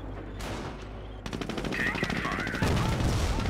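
Gunfire in the real-time strategy game Company of Heroes: a few isolated shots, then rapid bursts of automatic fire crackle closely, building in density over a few seconds.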